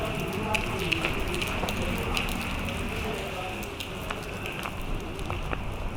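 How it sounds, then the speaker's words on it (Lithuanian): Steady rain pours down outdoors in off-season Portugal, a dense continuous patter of drops hitting surfaces, close and even throughout. "tokį lietų pakliuvau"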